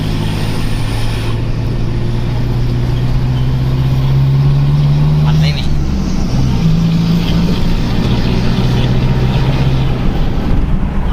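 A Toyota Vigo pickup's engine, fitted with an upgraded turbo and a tuned ECU, revs up loud and close. It climbs from idle to a steady raised drone, dips briefly and rises again, with no voices.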